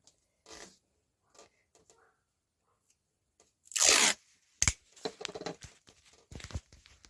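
Sharp ripping bursts of adhesive tape pulled off a roll, one long loud tear followed by shorter crinkly handling sounds as it is applied around a printer in a quiet room.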